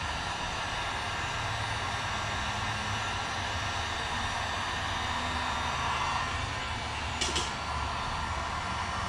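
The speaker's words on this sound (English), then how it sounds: "So the heat gun does two things." A heat gun blows steadily on vinyl graphics on a Yamaha YZ426F dirt bike, a continuous close whooshing hiss with no breaks, broken only by a brief click near the end.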